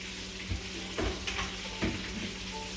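Curried zucchini placed into a preheated Pyrex dish: a steady close sizzle and hiss with a few soft thumps and clatters as the pieces go in.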